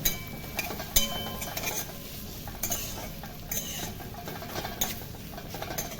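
Carrots are stirred in a pan for Kolkata-style chowmein, with a soft, steady scraping and frying hiss broken by a few sharp utensil clinks against the pan at irregular intervals.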